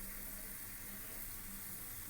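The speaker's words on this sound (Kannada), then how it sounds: "ಜಾಮೂನು ಎಲ್ಲ ಕಡೆ ಫ್ರೈ ಆಗುತ್ತೆ" Gulab jamun made from MTR mix deep-frying in oil, a soft, steady sizzling hiss that stays even and quiet throughout.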